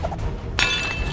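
A thrown rock shatters a pane of glass outdoors in a throwing challenge, one sharp, loud crash followed by a brief ringing tinkle of breaking glass.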